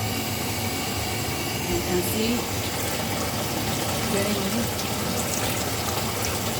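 Water runs from a faucet through a hose into a Kuppet twin tub washing machine, a steady rushing fill that holds constant, with a person speaking briefly over it.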